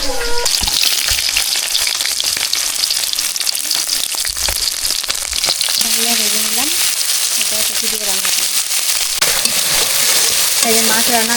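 Leafy greens sizzle steadily in hot oil while being stirred, a dense crackling hiss with scraping movements throughout; a voice briefly murmurs in the background partway through.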